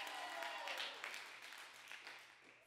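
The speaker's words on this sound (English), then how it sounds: "clap like you believe you got authority" A church congregation breaks into applause at the preacher's urging, a dense spread of clapping from many hands heard at a distance, fairly quiet and gradually tapering off.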